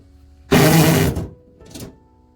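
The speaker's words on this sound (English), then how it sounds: "this is the way you remove screws" Screws come out of an Inkbird temperature controller housing in two short whirring bursts, a longer loud one followed by a quicker, fainter one, over quiet background.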